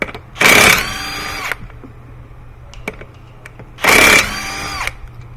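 Two short, loud bursts of a power tool spinning off 19 mm lug nuts from the rear wheel of a 2015 Subaru Forester AWD, whirring up and winding down, with small metallic clicks between them.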